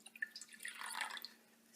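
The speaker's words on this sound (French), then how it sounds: "Nous allons verser l'eau dans la casserole avec les 16 grammes d'amidon de pommes de terre." Tap water poured into a saucepan holding potato starch, a faint brief splashing trickle swelling for about a second and then fading, heard alone.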